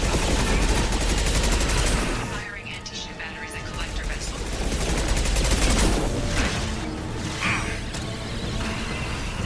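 Bursts of rapid gunfire and mechanical clatter from a Mass Effect 2 firefight come through close and dense, pausing briefly and then resuming, with someone talking over the action.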